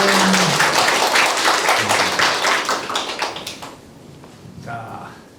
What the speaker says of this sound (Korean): 이렇게 많아서 큰 박수로 환영합니다